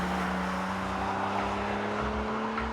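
A Singer-reimagined turbocharged Porsche 911, rear-wheel drive with a six-speed manual, drones steadily on the move, a constant engine hum with a sustained tonal whine heard from inside the car.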